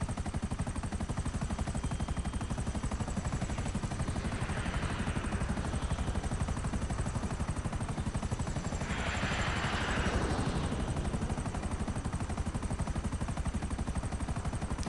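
A helicopter in the video game GTA gives a steady rapid rotor chop throughout, with broad whooshing swells passing twice and no talk.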